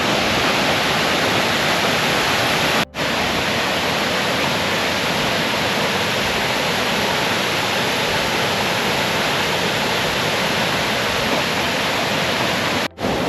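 A waterfall on the Isle of Arran roars as a loud, steady rush of falling water, close and continuous for the whole stretch, with no voices over it.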